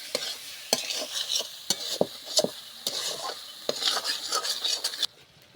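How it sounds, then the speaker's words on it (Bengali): Tomato and coriander are stirred into a spice masala in a pan, with steady frying sizzle broken by scrapes and clinks of a utensil against the pot at irregular intervals, close up, with no talk. "এইবার আমি টমেটোটা দিয়ে দেব, দিয়ে ধনেপাতাটা দিয়ে দেব, দিয়ে ভালো করে নেড়ে চেড়ে কষে নেব"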